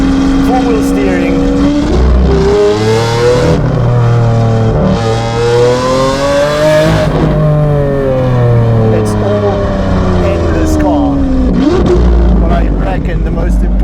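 Straight-piped Lamborghini Aventador S Roadster with a naturally aspirated 6.5-litre V12, revving hard in long rising and falling sweeps, loud and close, with someone talking over it in places.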